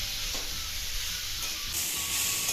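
Already-roasted mung dal sizzles softly as it is stirred and fried in a pan, a quiet, steady hiss broken by faint scraping stirs.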